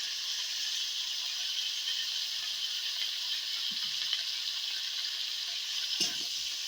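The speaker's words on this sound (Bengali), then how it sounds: "তেল দিচ্ছি, তেলটা দিয়ে ভালো করে নেড়ে চেড়ে নেব।" Mustard oil heating in a pan for a silver carp and cauliflower curry, giving a steady bright sizzling hiss throughout, with a few faint scrapes and a soft clack of stirring.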